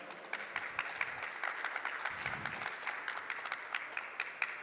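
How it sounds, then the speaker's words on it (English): Small audience applauding after a talk at a programming education event, sparse, fairly quiet individual claps in an uneven rhythm lasting several seconds. "let's give a round of applause for Joshua, first of all."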